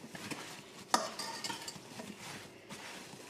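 Spoon stirring sugar, nutmeg and cinnamon into applesauce in a pot, a soft scraping and clinking with one sharp clank of metal against the pot, close and quiet.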